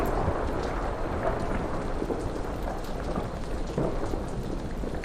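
Storm sound effect of steady heavy rain with low rolling thunder, a continuous dense wash at constant loudness with no voices.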